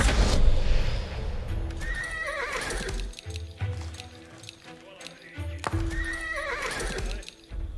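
Horses in Age of Empires IV whinny loudly twice amid clip-clopping hooves and stable clatter, the neighs ringing out near the start and again near the end, with game voices speaking in between.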